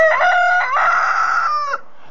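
A rooster among free-range hens on a farm lets out one loud, close cock-a-doodle-doo lasting nearly two seconds, sharply ending into near silence, with no talking.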